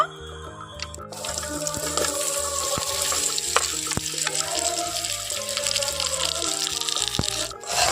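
Mangoes drop into hot oil already crackling with fried panch phoron for a sweet-sour-spicy pickle. A loud, steady sizzling hiss surges in after a quieter opening and keeps going.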